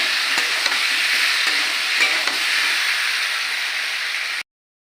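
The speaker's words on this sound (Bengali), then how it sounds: "আদা রসুন দিয়ে ভালো করে নেড়ে করে নিয়ে গন্ধটা, আদা রসুনের গন্ধটা মরে গেলে তারপরে মশলা দেবো" Ginger and garlic sizzle steadily in hot oil in a pan, with a few soft scraping stirs near the start, then the sound stops abruptly just before the end.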